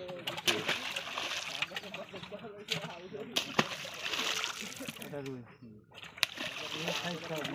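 Fish are poured from containers into a village pond, producing repeated loud splashes and sloshing water in bursts, while people talk and call out over the whole scene outdoors.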